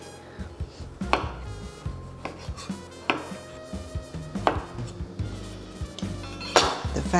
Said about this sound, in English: Now, let's cut the small tomatoes.